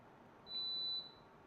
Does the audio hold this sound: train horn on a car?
no